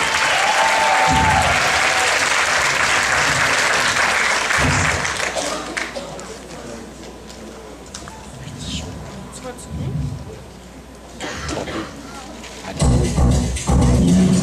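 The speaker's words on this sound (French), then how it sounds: "on commence tout de suite à applaudir" Loud audience applause fills the opening seconds, then fades to scattered clapping and murmuring before another burst of clapping near the end.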